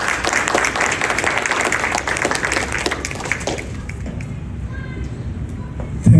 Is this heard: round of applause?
yes